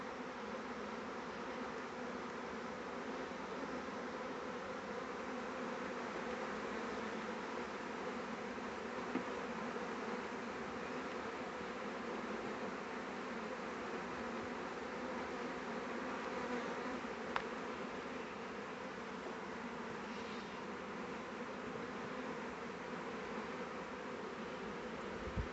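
A swarm of bees buzzing continuously, a dense steady drone of many wings close by, even in loudness throughout with no voices.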